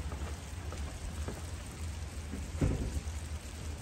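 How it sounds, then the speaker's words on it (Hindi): Steady outdoor rain makes a soft, even patter and hiss, with a slightly louder gust of drops partway through and no voices. "बारिश।"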